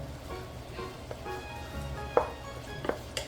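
Pancit noodles frying in nonstick cookware, a steady soft sizzle with a few light clinks and scrapes of a utensil stirring, close and fairly quiet.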